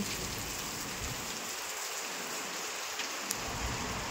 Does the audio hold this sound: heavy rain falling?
yes